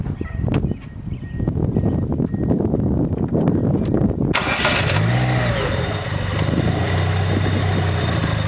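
A turbocharged car engine with a DIY oil pressure regulator and high oil pressure cranks and fires up loudly, settling into a steady running idle nearby with no talk.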